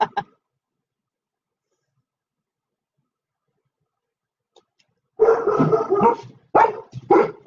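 Dogs barking in short bursts near the end of a mostly silent stretch, fairly close and loud, with a brief sound at the very start and then quiet.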